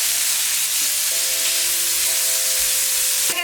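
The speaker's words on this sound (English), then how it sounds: "once all sides of your meat have been seared" Meat sears in a hot pan for barbacoa, a steady loud sizzle and hiss running unbroken throughout with faint tonal hum lines, ending in a brief clatter.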